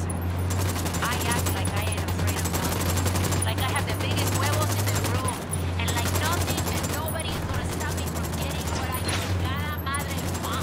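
Bursts of automatic rifle fire and scattered gunshots in the shooter video game Ghost Recon Wildlands, dense and continuous over a low game soundtrack, with voices speaking through the shooting.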